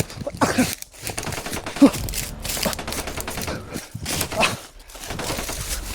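Bursts of rapid video game gunfire crackle in loud volleys, with short pauses between them and a few heavy thuds.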